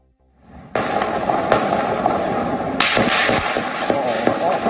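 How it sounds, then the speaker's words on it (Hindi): Several sharp gunshots crack on an open street, loud and echoing, followed by a dense burst of rapid fire over a noisy street background. "आतंकवादी एक खुली सड़क पर लोगों के ऊपर गोलियां बरसा रहा है"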